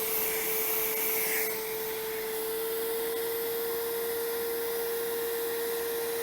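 A carpet extractor runs continuously while cleaning a car's carpet, giving a loud, steady machine drone with a constant tone and airy suction noise throughout, with no one speaking.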